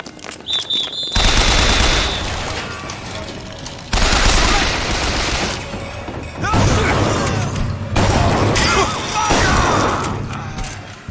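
Heavy gunfire fills a BioShock Infinite battle, coming in loud sustained bursts of automatic shots separated by short pauses, with combat clatter and faint voices in between.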